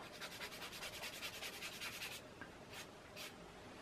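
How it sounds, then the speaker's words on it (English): Rapid back-and-forth scratchy rubbing of sandpaper, steady strokes close up, then a pause followed by two short final scrapes. "if it's not sanding well, you can always grab a new piece of sandpaper"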